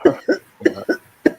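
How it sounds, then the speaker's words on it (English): Five harsh, explosive coughs from a man who smokes weed, close and loud in an irregular burst of about one and a half seconds, each with a rough, throaty edge. "That's definitely a weed smoker cough there."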